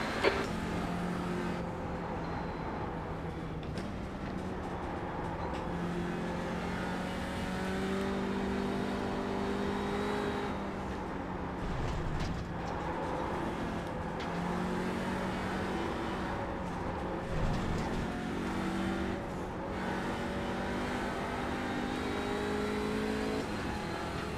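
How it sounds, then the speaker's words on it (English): Race car engines in the iRacing simulator, a touring car's steady high revving drone with a faster class car closing in behind, constant and loud with shifting engine pitch and no talk. "there's a faster class car approaching"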